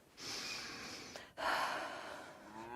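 A character in the medieval role-playing game Kingdom Come Deliverance 2 drawing deep breaths: a long airy inhale, a brief pause, then a louder rushing exhale fading out, close and alone.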